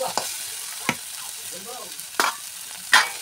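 Dhekia fern greens frying in a pan, a soft steady sizzle broken by four sharp scrapes of a spatula stirring the greens, close and clear with no voices.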